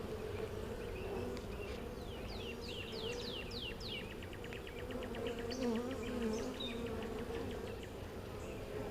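Honey bees buzz during a hive inspection, a dense, continuous droning hum close by that lasts throughout, with faint bird chirps in the background.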